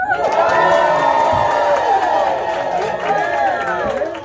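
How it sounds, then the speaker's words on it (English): An audience at a melodrama show cheers loudly for the hero, with whoops and crowd shouting swelling together at close range, then tapering slightly. "Let's cheer for the hero."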